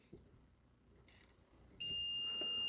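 A Brymen BM788BT multimeter set to the wrong range lets out a steady, high electronic beep that starts partway through and holds, loud and close over a faint background.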